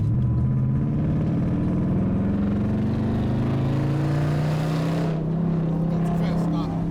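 A manual Dodge Challenger's engine revs up steadily as a student driver accelerates, a loud continuous drone rising in pitch before easing off, heard close from inside the car.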